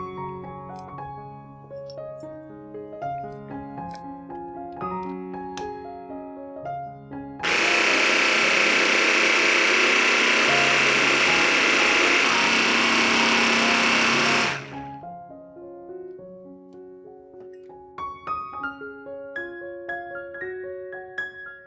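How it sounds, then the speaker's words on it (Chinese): A blender whirs loudly as it grinds coarse rice noodles into crumbs for vegetarian asam laksa balls, a steady roar of about seven seconds that starts and stops abruptly over soft background music. "一起搅打至碎状。"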